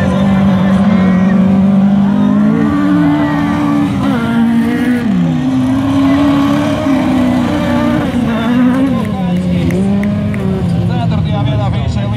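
Super 1600 class rallycross cars race toward the finish on the final lap of a NEZ Rallycross 2016 final, their engines droning loudly and continuously with shifting pitch under excited commentary.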